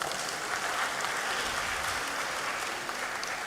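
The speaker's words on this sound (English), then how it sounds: "Let's please give him another round of applause." Conference audience applauding, a dense wash of many hands clapping at steady strength for several seconds, heard from within the hall.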